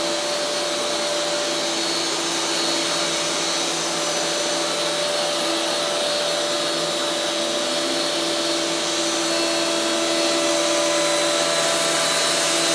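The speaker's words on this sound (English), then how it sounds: "I'm now going to start the router." A Dewalt router spins steadily on an X-Carve CNC machine, a loud continuous whine with stable tones that holds unbroken from start to finish, no voices present.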